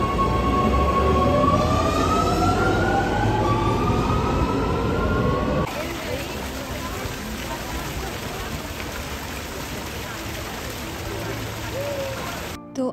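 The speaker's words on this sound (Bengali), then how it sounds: "তো চলুন এখন আমরা মেট্রো নেবো" Rome metro subway train running with a steady loud rumble, rising and falling whine tones early on, then a sharp shift to a dense rattling roar as the ride continues, with no talk.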